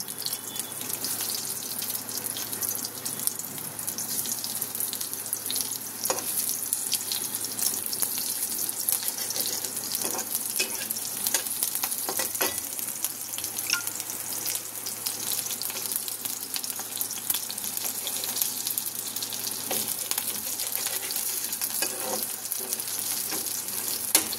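Onions frying in a pan for a prawn dish, a steady broadband sizzle running throughout with occasional faint clinks and stirring, no talk.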